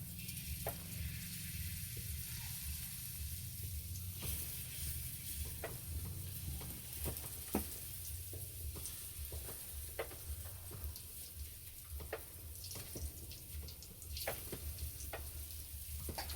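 Gram flour pudla pancakes fry steadily in a pan with oil, a continuous soft sizzle broken by scattered pops and ticks throughout, close by and with no voices.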